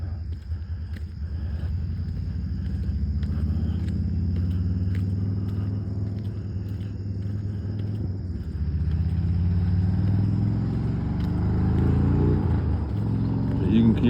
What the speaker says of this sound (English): You can hear cars and stuff behind us